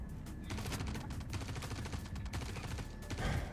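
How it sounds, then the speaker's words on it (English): Rapid bursts of automatic gunfire from enemies in the Star Citizen space game rattle continuously at moderate distance, a steady stream of overlapping shots with no talk. "See, they're still shooting at me."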